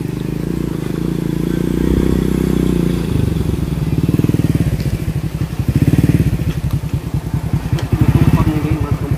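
A motorcycle engine idles loudly nearby, then revs and sputters in rhythmic, throbbing bursts that rise and fall several times.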